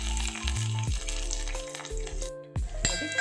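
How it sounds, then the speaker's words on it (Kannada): Mustard seeds, chopped onion and curry leaves sizzle steadily in hot tempering oil for a ridge gourd chutney, with a crackling hiss that carries on throughout and a few clanks of stirring. "ಕೆಂಪು ಬಣ್ಣ ಬರೋವರೆಗೆ ಫ್ರೈ ಆಗಲಿ"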